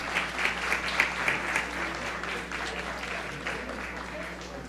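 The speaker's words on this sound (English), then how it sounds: "Let's give them a round of applause." An audience at a school board meeting claps for student volunteers from a high school and middle school, steady applause from a modest crowd in an indoor hall that gradually thins toward the end.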